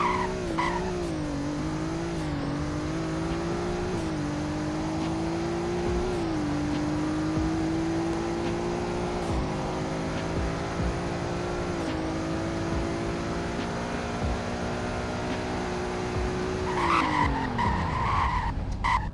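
A Tesla Cybertruck in the Roblox Greenville game accelerates through a speed test, its synthetic engine tone climbing steadily in pitch with shifting harmonics, then dropping sharply as it slows near the end, with faint clicks and a brief skid.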